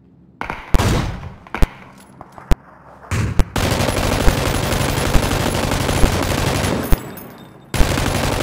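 An M249 machine gun in PUBG lays down suppressive fire: a few loud separate shots first, then a long sustained roar of rapid automatic fire, very close and intense, ending with a few final cracks.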